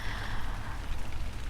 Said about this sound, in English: It's raining here in California.